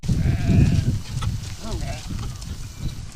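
A pregnant sheep bleats in a short wavering call while receiving an injection, with close voices talking over low handling noise around it.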